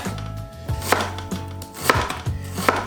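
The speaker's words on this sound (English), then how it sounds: "Just gonna cut this like so. Onion done." A knife slices half an onion on a cutting board for Japanese-style Napolitan pasta, a handful of crisp, uneven chops about half a second apart, each ending in a board knock, close and clear.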